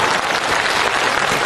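An audience claps during a comedy sketch staged as a meeting, a brief burst of dense, loud applause that stays even from start to finish.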